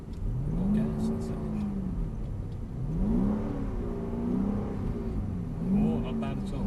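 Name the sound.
Mercedes-AMG car engine accelerating on track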